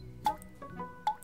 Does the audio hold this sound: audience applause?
no